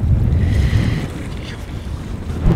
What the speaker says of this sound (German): Aber dieser Wind kann man nicht einfach abstellen